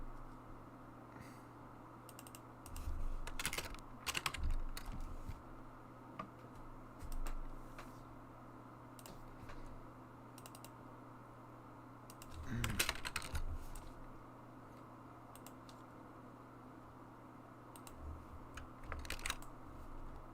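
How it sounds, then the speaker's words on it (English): Bursts of computer keyboard typing during a modding stream, clustered keystroke runs separated by pauses, close and fairly quiet over a steady low hum. "I'm just trying to type this out"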